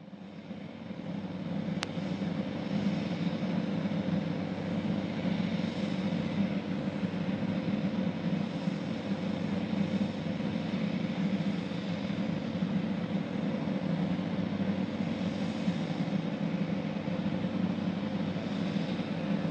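A Soyuz 2.1a rocket carrying a Progress 67P cargo ship lifts off toward the International Space Station, a loud, steady, unbroken roar that holds for about twenty seconds.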